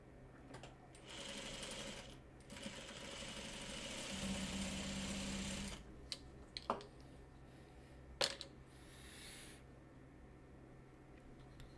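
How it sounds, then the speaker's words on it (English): A sewing machine stitches quilt block pieces in a few quick bursts of rapid, buzzing stitching, with pauses and small clicks between runs, close and fairly quiet. "We'll take this one to the sewing machine."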